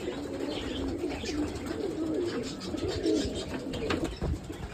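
Pigeons cooing in a loft in Izmir, several birds giving low throaty coos that overlap continuously over a steady background, fairly close.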